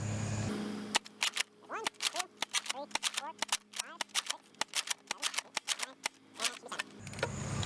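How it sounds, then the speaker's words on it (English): Nerf blaster firing AccuStrike darts indoors, a rapid string of about twenty sharp snapping shots with short whirring spring sounds between them, close and loud, steady rhythm over several seconds. "I will fire it from right here beside the camera, and we'll fire off the AccuStrikes first"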